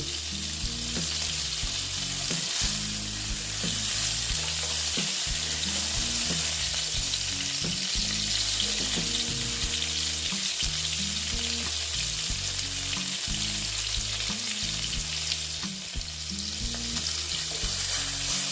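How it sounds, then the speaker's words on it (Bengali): Pointed gourd (potol) pieces fry slowly in a pan of oil with a constant, even sizzle and occasional soft crackles, heard close up over a quiet melodic backing track. "আস্তে আস্তে ভেজে নিচ্ছি"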